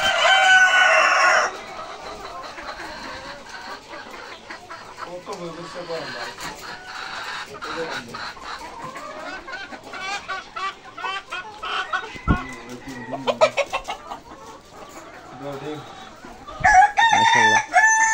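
Native hill chickens cluck in a yard while roosters crow loudly near the start and end, with a person speaking intermittently among the birds.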